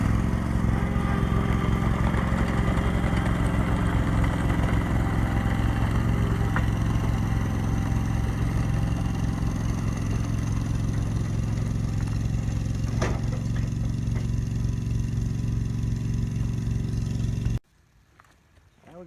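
A Ditch Witch SK500 mini skid track loader's engine runs at a steady, loud drone while it moves a large equipment trailer, with faint scraping, before cutting off abruptly near the end.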